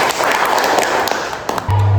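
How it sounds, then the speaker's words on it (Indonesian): An Indonesian classroom of students claps together in quick, loud bursts and thumps, with a voice heard briefly under the clapping and a low hum at the end. "Nah, tepuk tangan."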